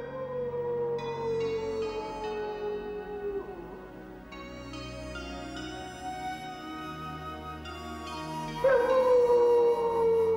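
A wolf howls in a lion-king animated episode, long wavering tones that slide up and down over a soft musical backdrop and swell louder near the end.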